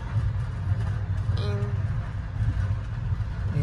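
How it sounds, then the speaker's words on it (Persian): Steady low rumble of a moving passenger train carriage on the Tehran to Bandar Abbas line, continuous and close, with a faint brief tone partway through. "این قطار."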